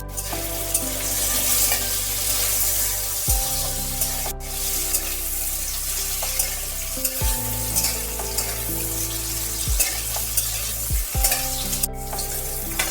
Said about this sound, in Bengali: কুমড়োগুলো ভাজা হয়ে গেছে, তুলে নিচ্ছি।